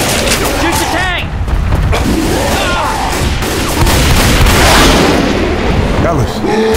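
Rapid gunfire rattles dense and loud against the Tank in Left 4 Dead 2, with game voices shouting over the continuous shooting and booming impacts throughout.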